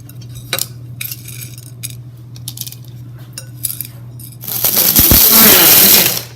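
An electric spice grinder whirs loudly for over a second as it grinds black cardamom, whole black pepper and cloves, preceded by light clinks and rattles of whole spices being handled.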